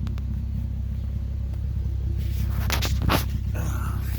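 A 2010 Infiniti G37X with a custom exhaust, Flowmaster FX mufflers, a Borla X-pipe and 4-inch tips idles with a low, steady rumble, swelling briefly near the end with a few light knocks.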